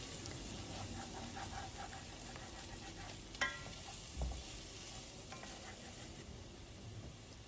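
Vegetables for a gluten-free chicken pot pie sauté in a pan with a faint, steady frying hiss, broken by a couple of soft utensil clicks.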